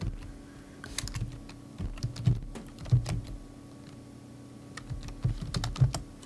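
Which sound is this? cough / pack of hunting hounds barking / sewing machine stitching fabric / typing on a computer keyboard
typing on a computer keyboard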